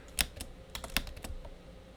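Keystrokes on a computer keyboard while entering Ubuntu commands to log into a server, a few crisp taps clustered in quick bursts with short gaps, close and fairly quiet, no talking.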